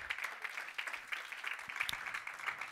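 Church congregation clapping in a steady, rhythmic beat, faint and distant, with a busy wash of hands and no clear voices.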